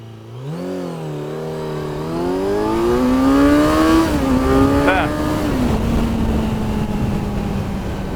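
A 2024 Kawasaki Z900 motorcycle accelerates hard from a standstill, its engine note climbing through several gear changes then settling into a steady cruise, heard close from the rider's position with wind noise underneath.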